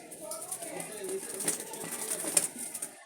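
Jalali pigeons coo softly amid a busy, noisy setting, with wingy rustles and a bright clatter cutting through; the calls stay modest and close rather than loud.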